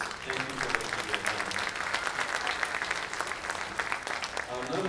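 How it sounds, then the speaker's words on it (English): Parents in a school spring concert audience give steady, sustained applause, a continuous wash of many hands clapping with some voices underneath. "So a round of applause for you all for supporting your kids."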